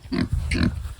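Pigs on a farm grunt and squeal in two short bursts, close and fairly loud, as a dog named Brumby tries to play with them in the mud.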